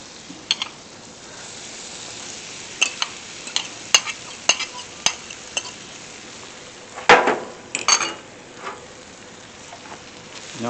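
Food fries in butter on a Blackstone griddle, a low steady sizzle under scattered scraping and clinking of a metal spatula, one louder scrape near the middle.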